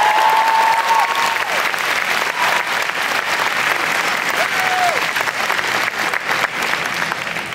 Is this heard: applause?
yes